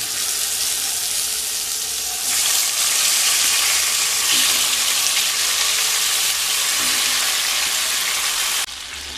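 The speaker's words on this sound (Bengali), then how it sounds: "তেল থেকে যখন সুন্দর একটা স্মেল বেরোতে শুরু করবে তখন ম্যারিনেট করে রাখা চিকেন দিয়ে দেব।" Marinated chicken sizzles in hot oil with whole spices and dried red chillies, a loud steady hiss that swells sharply after a couple of seconds and holds strong before easing near the end.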